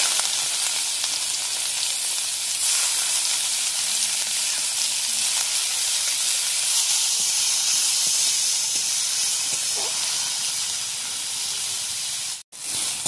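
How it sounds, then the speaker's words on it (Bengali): Chopped onion fries in hot oil with black cumin and bay leaf, a loud, continuous close-up sizzle and hiss that barely wavers throughout, broken only by a brief drop near the end. "পেঁয়াজ কুচি দেবো"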